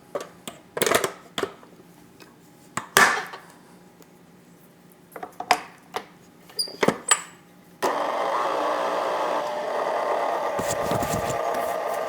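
Nutter Butter ball ingredients, including flour, being mixed in a bowl: scattered clinks and scrapes come first, then a steady, dense stirring rush runs continuously through the final few seconds.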